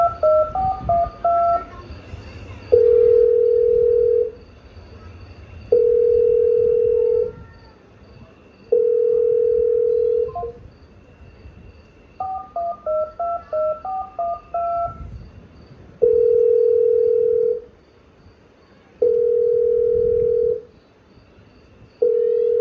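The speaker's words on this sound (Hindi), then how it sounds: "वो बार बार फोन करती है, पर कोई जवाब नहीं आता है।" Beeping keypad tones dial a number, then a steady ringback tone pulses repeatedly with no answer; the number is dialed again and the ringing continues.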